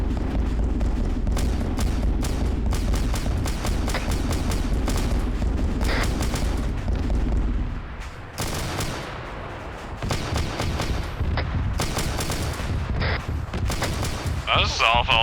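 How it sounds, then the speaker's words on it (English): A video game battle rumbles with a dense, heavy barrage of explosions and gunfire. A deep roar dips briefly midway, then a run of sharp booming blasts follows, with voices talking faintly underneath. "I'm just gonna make everything explode."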